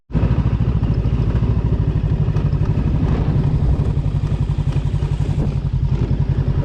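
A motorcycle ridden over a rough, shaking road in Berlin, Germany, its close, steady engine drone loud and continuous, with clattering rattles riding over the running note throughout.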